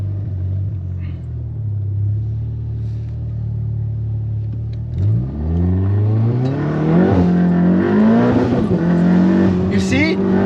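A 500 bhp Volkswagen Golf R accelerates hard on London streets, heard from inside the car: a steady low drone, then from midway the engine note climbs in rising sweeps as it pulls through the revs, loud and close.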